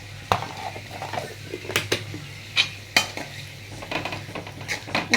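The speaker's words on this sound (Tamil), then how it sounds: "நல்லா வதக்குறேன் பாருங்கள்" Ginger garlic paste sautés in a pan for a chana gravy as a metal utensil scrapes and taps the pan repeatedly, irregular close clinks over a light sizzle, no voices.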